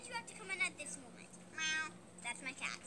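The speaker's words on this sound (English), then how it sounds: "Meow. That's my cat." A pet cat meowing in a home, several short meows in quick succession, fairly close but quiet.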